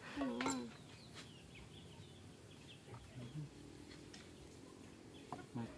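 Chicken clucks come in short bursts outdoors, mixed with nearby voices and other farmyard bird calls, fairly close but partly under the talk.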